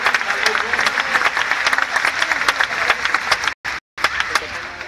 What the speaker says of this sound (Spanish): Un aplauso a este Dios grande y maravilloso.